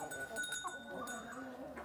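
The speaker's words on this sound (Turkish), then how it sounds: "Bunlar da kuzulu koyunlarımız" Ewes with their lambs bleat faintly on a village farm, a few soft calls heard at a distance amid low background noise.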